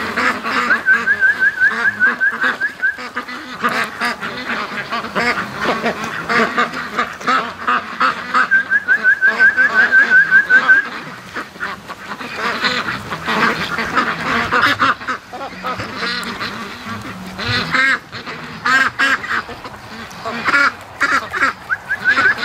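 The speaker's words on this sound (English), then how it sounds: "the ducks are just so cute. They're coming over to the garage" Ducks quacking near a garage, repeated bursts of nasal quacks at close range, some runs loud and rapid, with quieter scattered calls and outdoor background noise between them.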